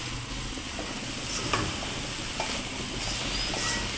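Red amaranth greens (lal shak) frying in a pan, a faint steady sizzle with occasional light clicks of stirring, close and fairly quiet, no talk.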